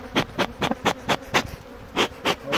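Bees near a beehive on a chestnut mountain make a series of short, close buzzing passes, about a dozen rhythmic bursts rising and fading as insects fly past the microphone.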